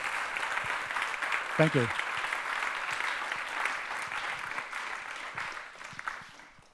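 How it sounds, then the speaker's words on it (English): Sustained audience applause after a presentation at a talk, steady and moderately loud across the whole stretch, with a short spoken thanks near the start. "give John a round of applause for his presentation"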